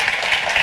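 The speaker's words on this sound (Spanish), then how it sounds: "Un aplauso más fuerte, hombre." An audience at an Arts and Science event in Madrid applauds. A brief burst of dense clapping is heard close and steady, with no speech over it.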